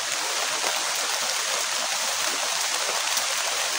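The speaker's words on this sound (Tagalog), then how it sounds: "Kasi ang lakas ng ulan." Heavy rain pours down in a steady, dense hiss that stays close and loud throughout, with no pauses and no voices over the downpour.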